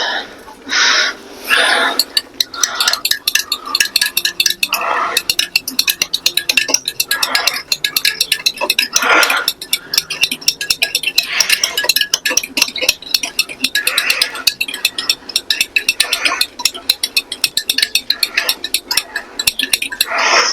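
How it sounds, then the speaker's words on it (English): Eggs being stirred in a bowl for a cake, with a fast rhythmic clinking and scraping of utensil against the bowl, close and continuous in short bursts. "Then we stir the eggs."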